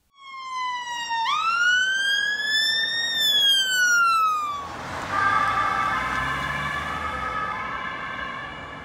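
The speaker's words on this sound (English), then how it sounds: "The emergency ambulances in Germany have a two-tone sound, but in the UK they have an oscillating tone." A loud emergency ambulance siren sweeps upward in pitch, then changes into a different wailing pattern that carries on steadily, with no talk over it.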